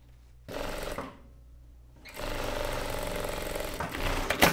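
Close and loud, a sewing machine runs in two sustained stitching stretches separated by a short quieter pause as it sews and topstitches a women's shirt. There is no speech.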